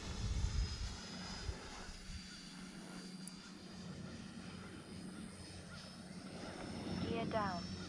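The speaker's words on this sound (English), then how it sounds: "I hear an Army helicopter today." A helicopter drones continuously overhead, a faint, steady rumble that swells slightly near the end, with a brief voice toward the close.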